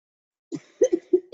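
A short burst of a few coughs, close and distinct, following a moment of silence.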